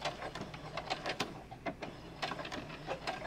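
A sewing machine stitches orange ribbon onto a white towel, giving a quiet, steady rattle of rapid needle ticks with small bursts and pauses, close and faint, with no voices.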